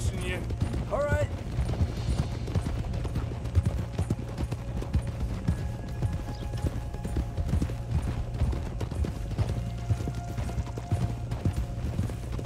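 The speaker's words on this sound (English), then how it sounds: "Look at Arthur's horse" Steady clip-clop of horse hooves at a trot in Red Dead Redemption 2, continuous and even, with a faint low hum and occasional distant pops in the background.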